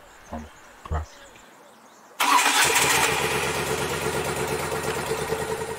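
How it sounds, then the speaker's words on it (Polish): A Moto Guzzi V7 V-twin motorcycle engine starts after a couple of brief starter attempts, catching abruptly and settling into a loud, close, rhythmic idle with a pulsing beat. "ten charakterystyczny, cudnie brzmiący silnik V-Twin"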